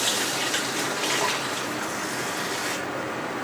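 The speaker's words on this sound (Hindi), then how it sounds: "इसके अंदर थोड़ा सा हमने पानी डालना है" Water poured from a large glass into a cooking pot set on a stove, a continuous close splashing gush lasting about three seconds before easing off, with no talk.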